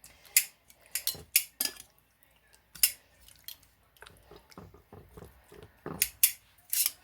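Batter for a gluten-free meal mixed in a bowl with a utensil before frying, giving irregular scraping clinks and taps against the bowl in scattered bursts, close and fairly quiet, with no talk.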